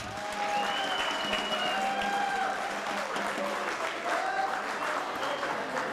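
Sustained applause from a concert audience, steady and dense for the whole stretch, with faint tonal music sounding underneath the clapping.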